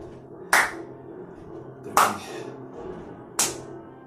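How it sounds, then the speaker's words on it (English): Three single, sharp hand claps spaced evenly about a second and a half apart during a sidestep cardio exercise routine, crisp and close over quiet background music. "Sidestep. With a clap."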